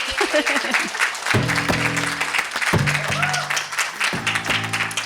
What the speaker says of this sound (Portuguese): Palmas para ela, gente.